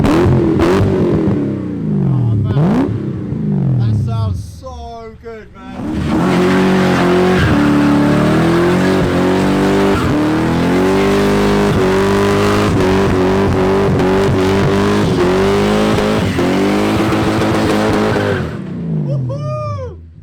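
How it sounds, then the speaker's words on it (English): Rotary-engined Mazda RX7 running nitrous, revving hard through a burnout with loud, sustained tire squeal and a screaming engine, close and continuous, with people talking and shouting over it. "Burnout confirmed."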